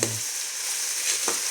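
Food frying in a pan, a bright, steady sizzle at moderate volume with a brief stir or clatter near the end, no voices.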